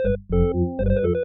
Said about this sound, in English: you get that extra jumpiness boom, bip, boom, boom, boom in the pedals